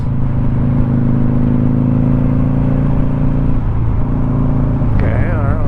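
A Kawasaki Vulcan cruiser motorcycle idles with a steady low engine drone, then pulls away with a rising whine toward the end, heard close and loud from the rider's position.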